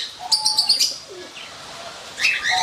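Small pet birds, finches and lovebirds in a home aviary cage, give quick high chirps in two short bursts, one near the start and one at the end, with quiet room tone between.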